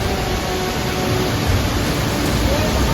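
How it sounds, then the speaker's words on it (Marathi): Heavy monsoon rain pours down in a dense, steady roar at the Kalu waterfall trek in the Sahyadri hills, filling the whole clip without pause. "मुसळधार पाऊस चालू झालेला आहे"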